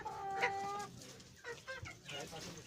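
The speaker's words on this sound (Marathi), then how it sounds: "विविध कलर असलेल्या या गिरिराज जातीच्या कोंबड्या असतात" Giriraja hens cluck and squawk in a poultry farm, several birds calling in short, uneven bursts at moderate distance against a quiet background.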